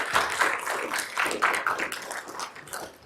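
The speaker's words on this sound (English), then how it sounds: "Can we have a big round of applause for Disson?" Audience in a lecture hall applauding with steady hand claps, a moderate wash of clapping that holds for a few seconds before thinning out.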